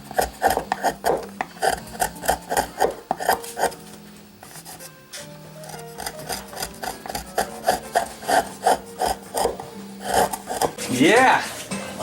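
Rhythmic rubbing strokes of sandpaper work over wooden back braces of a handmade guitar, loud and close, pausing briefly midway before resuming, with people talking at times.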